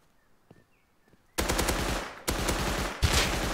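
Rapid automatic gunfire in the survival game Rust, a quiet stretch with faint clicks giving way to two loud sustained bursts of shots, close and alone with no voices.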